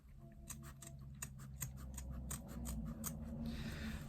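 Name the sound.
scissors cutting fabric and foam for a bag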